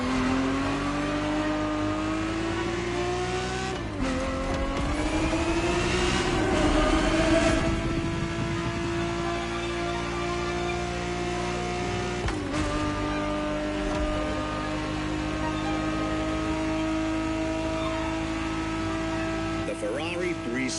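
A Ferrari 365 GTB4 engine from The Crew Motorfest hums steadily throughout, with a few shifts in revs, under someone narrating.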